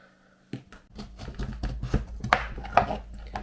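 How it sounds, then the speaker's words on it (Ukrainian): A knife taps repeatedly against a cutting board, cutting pumpkin into strips in a series of close, uneven chops with a low kitchen hum underneath. "Ось та такі полоски нарізаю, а потім ось так."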